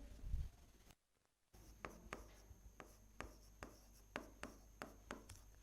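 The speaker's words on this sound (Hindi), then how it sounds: "मैं भी आपको लिख देती हूँ यहाँ पे" Chalk or marker writing notes on a classroom board during a lecture, a quiet series of sharp taps and short scratchy strokes following a brief pause, faint and with no voice.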